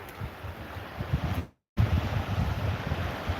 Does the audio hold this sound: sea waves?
yes